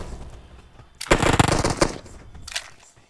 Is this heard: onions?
no